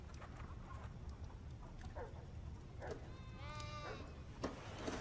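Distant goat bleats rise faintly from a noisy outdoor background, including one wavering, drawn-out bleat near the end.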